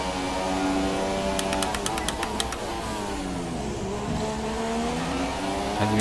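A McLaren race car in an F1 career-mode practice session roars past in a video game, a loud continuous engine whine with sweeping pitch shifts as it passes, over steady track noise.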